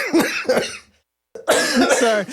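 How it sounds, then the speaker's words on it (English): Someone coughs in harsh, repeated bursts close to the mic, pauses for a breath, then breaks into another cluster of coughs. "I've not laughed into a coughing fit in a while."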